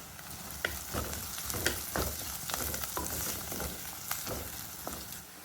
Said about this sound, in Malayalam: ഇനി നമുക്ക് സവാള നന്നായിട്ട് വഴണ്ട് വരുന്നവരെ വീണ്ടും ഇളക്കി കൊടുക്കാം